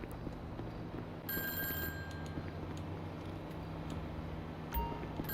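A phone rings in GTA 5 Online, a faint electronic trill over busy game background noise, with one brief burst early on and a short tone near the end.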